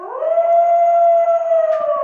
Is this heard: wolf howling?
yes